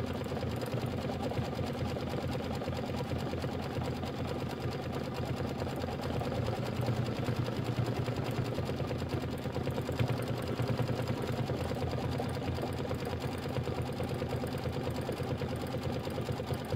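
An embroidery machine stitches a Kimberbell Nativity bench pillow block, giving a steady, loud, fast mechanical chatter that runs unbroken throughout with no talk.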